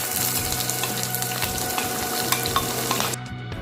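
Chopped onion fries with mustard seeds in about two tablespoons of oil, a loud close steady sizzle with stirring scrapes that drops to a quieter hiss near the end.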